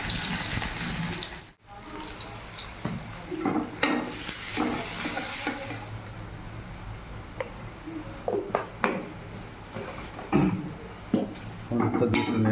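Chowmein cooking in a home kitchen as turmeric is stirred into a pan: scattered scraping and clattering stirs over a steady sizzle, with a few louder knocks.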